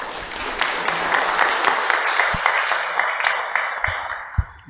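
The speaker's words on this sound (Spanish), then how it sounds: "Un fuerte aplauso, por favor." Audience applause fills a book presentation hall, a dense steady wash of many hands clapping with a few sharper individual claps standing out near the end.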